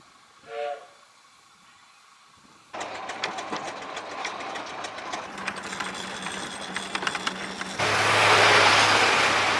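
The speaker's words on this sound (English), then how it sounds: "having a go at steering a Burrell Showman's engine" A Burrell Showman's steam engine runs at a steam rally: a brief whistle toot, then a loud chuffing, clanking rumble that builds into a roaring burst of steam hiss, with no talk.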